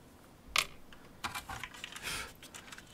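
Keystrokes tapped on a repaired BBC Micro keyboard, a few separate clicks followed by a short irregular burst of typing, close and fairly quiet against a soft background hiss.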